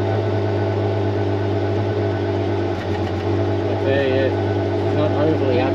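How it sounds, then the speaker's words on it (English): A classic Holden, parked for years and freshly revived, idles steadily nearby with a low exhaust note carrying a slight flutter, while someone talks over it. "You hear the exhaust note? She's got a little flutter to it."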